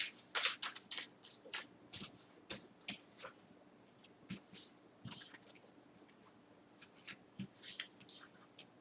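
Tarot cards being shuffled by hand in a quiet room, making a rapid run of soft riffling flicks and light scrapes that come in irregular clusters, close by and faint.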